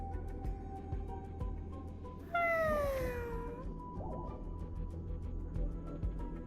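A cat-like lime jelly monster in Honkai Star Rail gives a single loud, drawn-out meow, rising then falling, heard alone over steady game music and ambience.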